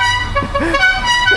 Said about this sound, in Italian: A che clacson vanno?